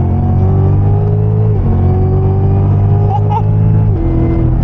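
Cadillac CTS-V, a 640 hp auction car with traction control off, pulling hard through a second-gear roll: loud, steady engine roar whose tone climbs continuously, then drops briefly twice as gears change before rising again.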